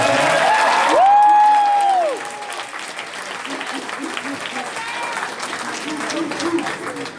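A graduation night party crowd applauds with some cheering, louder at first and then settling into steadier clapping, with a high whistle-like tone briefly cutting across early on.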